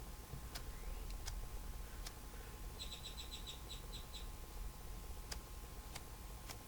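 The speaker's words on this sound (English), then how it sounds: "The birds are going crazy outside." Birds chirp outside, faint and distant through a window, with a short burst of quick repeated chirps and a few scattered clicks over a low indoor hum.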